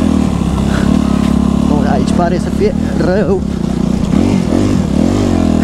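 A motocross dirt bike engine runs steadily and loudly while ridden off-road on an enduro trail, its drone continuous throughout with a rider's voice talking over it.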